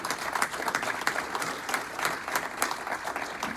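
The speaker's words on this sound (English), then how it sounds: "Let's give them a round of applause, please." Audience applause at a club meeting honoring past officers, a steady dense patter of many hands clapping at moderate distance, continuous throughout without speech.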